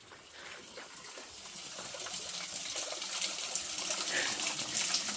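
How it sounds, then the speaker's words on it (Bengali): Water drawn up from a very deep village well near a temple in Purulia, splashing and gushing steadily and growing slightly louder, with faint voices in the background. "কুয়োতে কিন্তু জল রয়েছে, এই দেখুন দাদা জল তুলছে"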